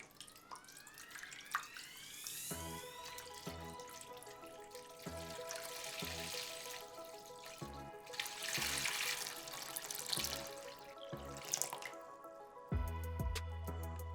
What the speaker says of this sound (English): let's add some water to our container.